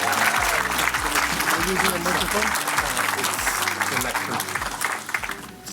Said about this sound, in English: Let's give a huge, huge round of applause.